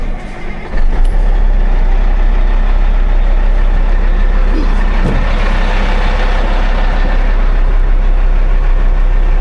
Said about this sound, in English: So, fire the truck up here.